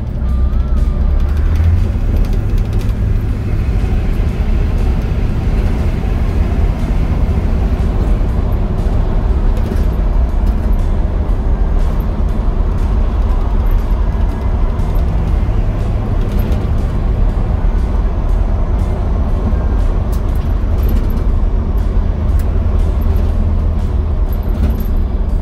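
Road traffic during rush hour, heard from inside a driving 1968 Chevrolet Impala SS with a 327 V8 and automatic transmission: a loud, constant low engine and road rumble with passing vehicles, steady throughout.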